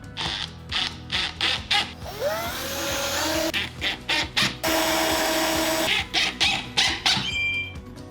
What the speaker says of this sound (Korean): 드릴을 이용해서 체결하겠습니다